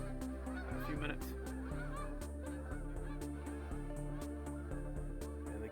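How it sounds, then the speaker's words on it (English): Geese honk repeatedly in a steady, busy chorus, some calls near and others farther off, with no talking. "And the geese are escaping."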